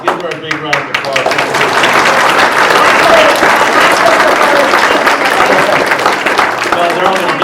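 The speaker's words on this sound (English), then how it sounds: "Give her a big round of applause." Loud, sustained applause from an audience at an evening book talk, many hands clapping densely and steadily for several seconds after a brief lead-in.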